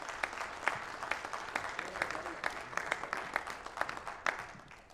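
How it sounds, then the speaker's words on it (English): An audience at a town hall candidates forum in Scott County, Arkansas, claps with distinct, fairly sparse hand claps at moderate distance, a steady smattering of applause without voices. "let's give them a round of applause"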